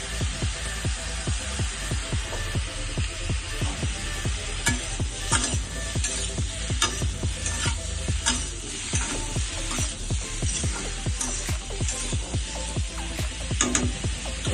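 Butter garlic mushrooms, lightly salted, sizzle in a pan while being stirred, a constant frying hiss layered with repeated scraping and clinking strokes of the spoon, close and fairly loud, with no talking.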